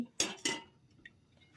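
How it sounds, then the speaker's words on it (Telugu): A metal pot set down on top of a biryani vessel during cooking: two sharp clanks in quick succession, followed by a faint softer clink, close by and without talk. "దానిపైన గిన్నె పెట్టేసేలా"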